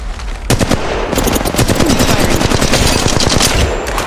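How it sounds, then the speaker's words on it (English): Rapid automatic gunfire in the mobile battle royale shooter Apex Legends Mobile: a loud, sustained burst of closely spaced shots, near and continuous for about three and a half seconds. "Yeah, getting shot at."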